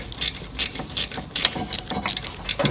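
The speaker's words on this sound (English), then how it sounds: "ratchet spanner." Allen ratchet spanner working on a 2002 Range Rover L322 during brake caliper repair, making bursts of sharp metallic clicking at an irregular rhythm, close and fairly loud with no talk.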